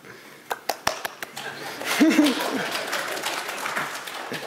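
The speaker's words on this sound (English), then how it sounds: "Let's not clap until it's done." A workshop audience breaks into scattered claps and cheers as a live demo starts to work, with a few sharp early claps followed by a swell of mixed clapping, whoops and chatter.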